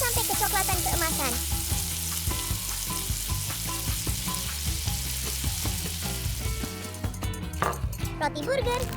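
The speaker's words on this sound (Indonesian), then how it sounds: "Ayo goreng sampai kecoklatan keemasan." Crispy chicken fries until golden brown in hot oil, a loud, dense and continuous sizzle held close the whole way, with clinks of utensils near the end.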